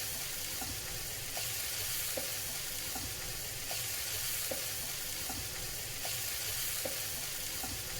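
Ginger garlic paste fries in a pan with a steady, dense sizzle and occasional light stirring scrapes, close and continuous with no talk.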